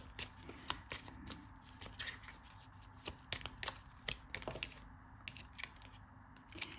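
A small angel card deck being shuffled by hand, giving a steady run of soft riffling snaps and paper flutters, close and fairly quiet, with no talking.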